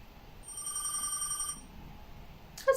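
A telephone rings inside a dark, empty house in a video game, a steady electronic trill lasting about a second, then silence and a brief sharp sound at the end.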